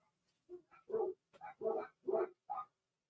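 Several dogs barking in quick succession at a distance, about six short yaps and woofs in an uneven burst before quiet.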